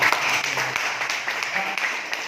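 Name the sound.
audience applause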